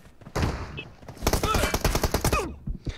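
Bursts of gunfire from a multiplayer team deathmatch shooter game, loud broadband cracks clustered in rapid succession through the middle, with a player's voice talking over parts of it.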